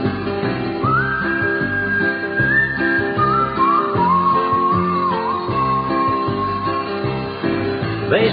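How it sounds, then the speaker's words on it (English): A woman whistles the hymn tune "What a Friend We Have in Jesus," a clear sustained melodic line carried over a steady country-style musical backing, with held and gliding notes. "Grandma whistling, what a friend we have in"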